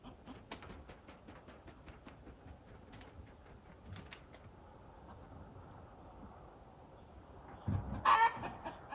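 Chickens clucking and a rooster calling in a farmyard: a steady, scratchy background of fowl chatter with scattered sharp notes, swelling to a louder burst near the end.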